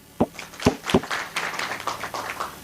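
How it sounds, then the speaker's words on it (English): At a special economic zone strategic plan meeting, an audience claps for the director. A few sharp, separate claps open the round, then it fills out into looser, quieter applause. "One more clap for him."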